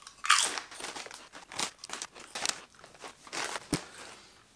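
Close, crisp crunching of Estrella sour cream and onion potato chips being chewed, with irregular bursts of loud crackling between short pauses.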